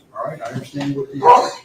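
A single sharp sneeze in a courtroom during a double murder trial, with a bark-like, dog-sounding burst near the end, cutting loudly into a man's ongoing speech.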